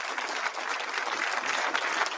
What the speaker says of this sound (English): he's got some sympathetic clapping around him